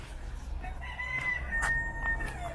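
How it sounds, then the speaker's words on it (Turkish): A rooster crows once in the distance, a drawn-out call over a low background hum, fairly faint. "Burada yeni bir horozumuz var biliyorsunuz."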